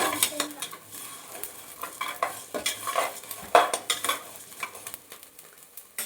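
Moong dal fries in ghee for a sweet payasam while a spoon stirs it in the pan, giving repeated scraping strokes over a soft, continuous sizzle, with no talking.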